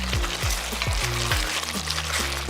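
Ginger garlic paste with handfuls of curry leaves and coriander leaves frying in a pan, a steady close sizzle with repeated scraping stirs at a regular rhythm, no voices.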